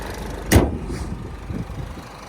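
A Renault Koleos engine idles with a low, steady rumble, broken by a sharp thump early on, heard up close without any talking.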